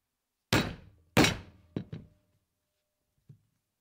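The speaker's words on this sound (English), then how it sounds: "we're going to stitch mark this all the way through" Stitching chisel struck through a leather bifold wallet pocket: two loud sharp mallet thunks, then a quick double tap and a faint final knock, close and isolated against silence.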